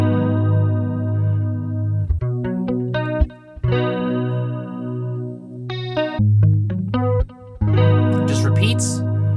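Electric guitar with chorus, echo and light distortion effects cycles through three chords, two main ones and a change at the end, in a steady rhythmic pattern with short breaks, for an R&B beat.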